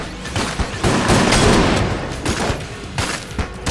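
Dense, rapid gunfire from the bullet-hell video game Enter the Gungeon, with overlapping shots and bursts crackling continuously and loudly for a few seconds, without any voices.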